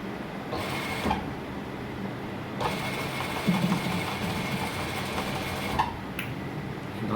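A sewing machine stitches a shirt cuff in a steady, unbroken mechanical whir with faint periodic clicks, close up and running the whole time with no voice heard.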